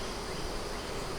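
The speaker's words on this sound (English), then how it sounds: "Here's another little green bee." A small green bee buzzes near an open double-deep beehive with a honey super in the middle, a faint, steady insect hum set against quiet outdoor background noise.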